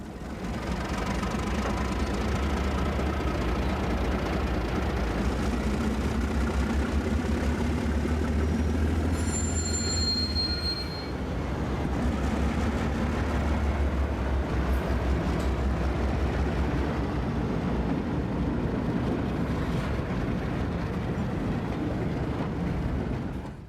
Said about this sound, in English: we'll get one more shot of the 2 diesels throttling up before we call it a day